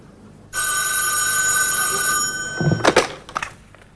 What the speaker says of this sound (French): ce téléphone peut sonner à tout instant.